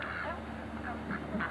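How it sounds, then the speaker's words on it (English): Toy duck or duck giving a soft quack, several short honking bursts near the end over a low indoor background, quiet and close. "Here's the quack quack."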